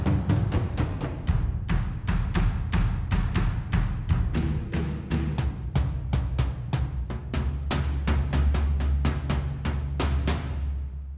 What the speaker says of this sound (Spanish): Action Strikes es un plugin de Native Instruments que lo que hace es crear